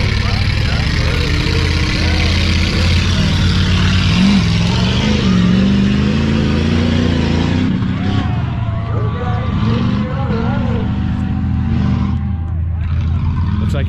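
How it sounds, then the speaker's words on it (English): A tuff truck's engine idles loudly and throbs unevenly as it lines up for its run at a dirt-track race event, with brief revs and voices in the background. "Wade's lining up for his Tuff truck run."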